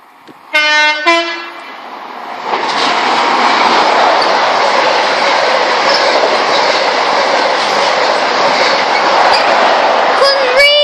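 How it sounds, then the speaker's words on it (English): An HST high speed train passes close by at Attenborough station, opening with a loud two-tone horn, then a sustained roaring rush of wheels and carriages, with another horn blast near the end. "Okay, we've got HST on the way."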